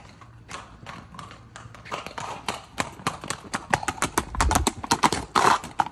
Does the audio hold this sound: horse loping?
yes